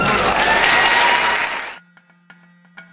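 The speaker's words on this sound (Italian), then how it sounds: "Applauso." Audience applause at an adult choir contest after the final choir sings Gloria dal basso della terra, a dense burst of clapping that fills the first part, then cuts off abruptly into near silence with a few faint knocks.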